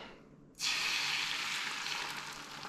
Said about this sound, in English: And there should be a slight sizzle,